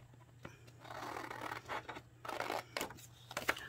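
Scissors cut out a paper shape in several short snipping and rustling strokes, close and quiet, with brief paper scrapes between cuts.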